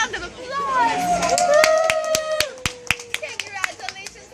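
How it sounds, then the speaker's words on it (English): Clapping hands ring out among Animal Kingdom guests cheering a girl who just earned all 31 explorer badges, with excited voices and cheers over the claps. "Give her a round of applause"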